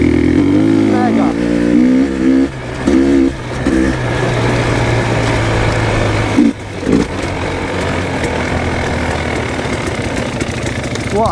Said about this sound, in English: Perfect for Enduro bikes.